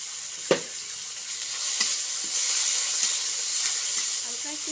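Potato with spices, salt and turmeric sizzles steadily in a frying pan. A soft, continuous frying hiss carries occasional light clicks from stirring, heard close up with no talking.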